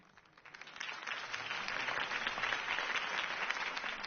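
A crowd in the Batman Telltale video game breaks into applause after a campaign speech, the clapping swelling quickly from a quiet start into a dense, steady ovation heard alone.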